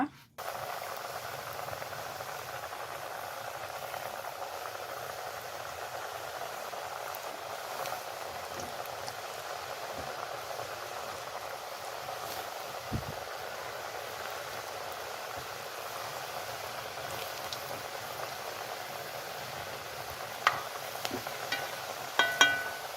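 Sausage and potatoes fry in oil in a pan, giving a steady, even sizzle that holds for the whole stretch with a few faint clicks near the end and no talking.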